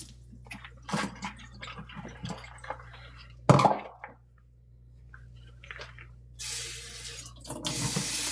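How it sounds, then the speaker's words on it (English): A tap runs water to wet a sponge in a kitchen setting, a steady hiss that comes in near the end after scattered clatter and a sharp knock. "Let me wet the sponge."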